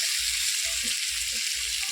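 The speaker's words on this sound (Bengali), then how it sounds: "বন্ধুরা আলুগুলি একটু ভাজি হয়ে যাক" Potatoes frying in a pan give a steady, close hiss and sizzle, with soft bubbling pops throughout and no voices.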